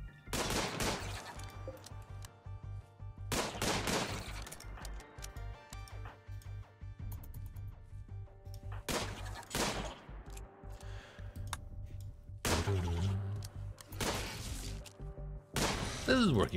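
Gunfire in the video game Rimworld crackles in several sharp bursts spaced across the stretch, with faint ticking and clicking between the volleys.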